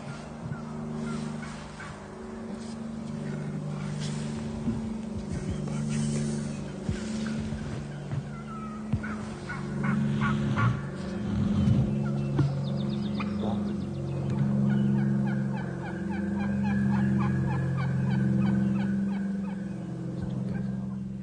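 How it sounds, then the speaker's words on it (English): Many overlapping turkey calls and gobbles from hunters overcalling in a small area, a steady chorus of layered yelps and clucks at moderate distance that runs continuously throughout with no speech. "You're listening to what is known as overcalling. Too many hunters in a small area making too many calls."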